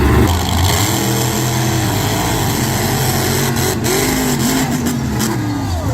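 A monster truck engine roars loud and near during a head-to-head race, holding a steady high-revving drone with a brief dip as the throttle eases slightly, then pulling back up.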